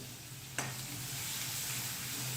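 Paste of chilli, garlic, ginger and curry leaves drops into hot oil with cumin seeds, starting a sudden sizzle that settles into a steady, moderate frying hiss with faint stirring, and no voices.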